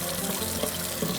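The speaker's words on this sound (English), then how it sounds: "just give my hands a quick wash, just to make sure that we're nice and clean" A kitchen water tap runs steadily into a sink while hands are washed, a close, continuous splashing flow with a few small bursts and no voices.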